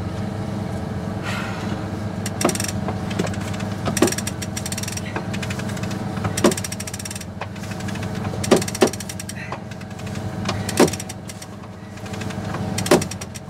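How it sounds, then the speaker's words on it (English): Sailboat winch ratcheting in a series of sharp metallic clicks while a reef line is tightened, repeated bursts over a steady background hum, fairly close. "Clamp that off and winch a bit more."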